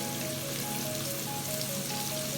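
Onion and garlic sizzle in hot oil in a pan, a steady close crackle with a faint background hum, no talking.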